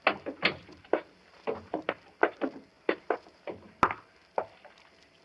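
A wooden door closes in a radio drama, heard as a series of sharp wooden knocks, creaks and thuds at close range, with one loud bang near the middle, and no talking over it.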